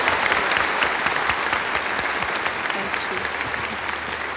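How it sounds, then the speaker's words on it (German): A large studio audience at the Musikantenstadl folk music TV show in Füssen, 2005, gives thunderous applause, a thick, continuous roar of clapping that stays strong and even from start to finish. "Und der Applaus, der jetzt kommt, der ist donnernd."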